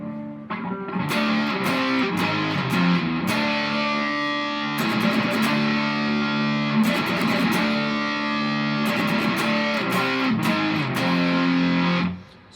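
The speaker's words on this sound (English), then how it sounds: "Distortion sounds like this." Electric guitar played through a distortion effect, loud and sustained, with chugging chords and repeated runs over about twelve seconds, alone without talk.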